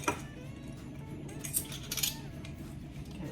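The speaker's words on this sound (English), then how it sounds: "we're gonna add 1 teaspoon of salt. I'm gonna stir that in" A spoon stirring salt into a pan of salted caramel for bourbon salted caramel oatmeal cookies: light metallic clinks and scrapes, close and fairly quiet, over a soft background hum.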